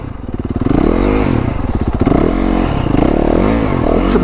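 A motorcycle spins donuts off road, its engine loud and close with a steady revving drone that rises and falls through the turns, joined by scraping and clattering as the tires slide on loose ground.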